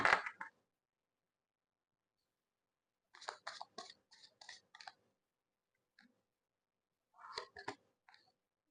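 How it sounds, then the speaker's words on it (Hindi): Tarot cards are shuffled by hand in short bursts of quick riffling and flicking card snaps, with silent pauses between groups, close and fairly quiet. "और थोड़ा shuffle करते हैं अभी।"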